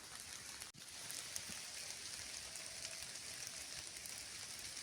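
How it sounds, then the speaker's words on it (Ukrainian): Summer rain falling in a forest: a soft, steady patter and hiss of drops on leaves and ferns, faint and even throughout, with no voices. "Дощ іде"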